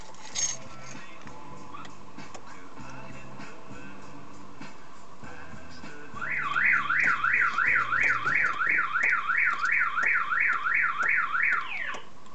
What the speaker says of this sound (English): I'll set off the alarm. It's the, you know, the 7-tone one.